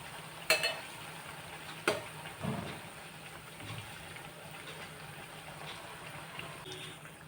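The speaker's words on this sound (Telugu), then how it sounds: "కొద్దిగా కలర్ చేంజ్ అయ్యే వరకు వేయించుకోవాలి." Bread pieces fry in a pan for double ka meetha (bread halwa), giving a quiet steady sizzle with a few sharp clinks and scrapes early on, no voices.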